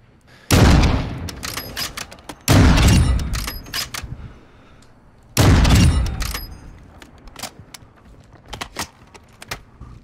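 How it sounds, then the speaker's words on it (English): Gunfire rips out in Call of Duty: Modern Warfare 2 DMZ, three loud close bursts of automatic fire separated by short pauses, followed by scattered lighter shots and clicks. "God damn, I'm missing them with every shot."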